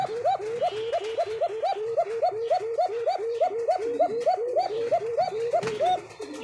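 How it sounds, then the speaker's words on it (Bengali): A pigeon of a breed with an unusual call coos in a fast, steady run of about twenty rhythmic, bubbling notes, close and prominent, at a pigeon farm, with faint background noise. "সব কবুতর ডাক যদি একই রকম হয় এই কবুতর ডাক কিন্তু একেবারে আলাদা"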